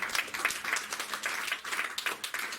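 A church congregation applauding, a dense, steady patter of many hands clapping together at moderate volume, with no pauses.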